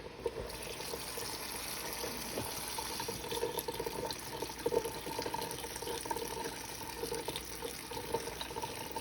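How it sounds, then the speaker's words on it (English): Steady cold running water from a tap splashes continuously over cooked noodles being rinsed, with a rushing, hissy wash and small splatter changes throughout, no voices present. "Okay, so rinse them with very cold water."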